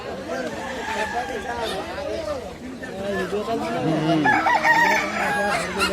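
Many chickens cluck and roosters crow over a busy crowd of voices, a dense, noisy market din close by at a Sunday bird market in Braminipal.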